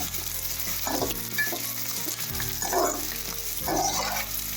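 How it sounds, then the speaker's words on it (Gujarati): Edible gum frying in hot ghee on low heat, a steady close sizzle with a spoon stirring and scraping the pan every second or so. "હલાવીને આમ થોડો થોડો આપણે બધો જ ગુંદને તળી લેવાનો છે"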